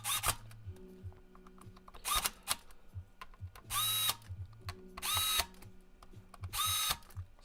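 A power screwdriver drives heatsink screws into a laptop motherboard during a repair, with short, loud whirring bursts repeated about five times at regular intervals and quiet clicks and handling noises between them.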